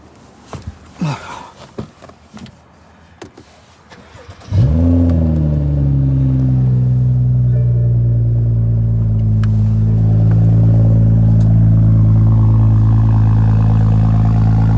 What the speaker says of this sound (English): That's more of a cold start.